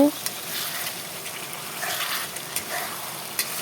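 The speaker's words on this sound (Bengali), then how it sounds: "টমেটো ক্যাপসিকাম মশলার সাথে দিয়ে ভালো করে কষিয়ে" Tomato and capsicum fry with spices in a pan, a steady hiss of sizzling oil with a couple of light spatula taps, close and even throughout a short stretch.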